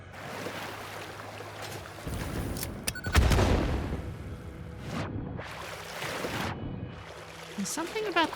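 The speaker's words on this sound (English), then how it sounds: "something about that explosion is giving me a lot of lag" Boulders blasted apart by an explosion in the factory-building game Satisfactory, a sudden loud burst followed by rumbling debris and whooshing bursts of noise, with someone talking over parts of it.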